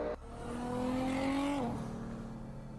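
A 2JZ-powered Toyota Mark II racing a Porsche 911 Turbo S: a loud, close engine note climbs steadily in pitch as the car accelerates, then drops sharply at a gear change before settling, with no talking.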